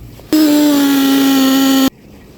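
An AKITA cordless hammer drill bores into a red brick wall, giving one steady, loud, high-pitched whine that holds for about a second and a half before cutting off sharply.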